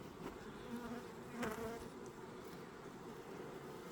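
Honey bees buzz steadily at a hive in a dense, droning hum, many insects close together, with one louder buzz passing near.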